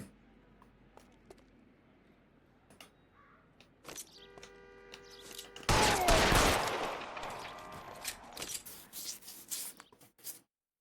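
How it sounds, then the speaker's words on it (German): Gunfire in the video game L.A. Noire breaks out as a dense burst of loud shots and ringing impacts, trailing off into scattered single cracks after quieter ambience and a few isolated hits. "I've been involved in a shooting."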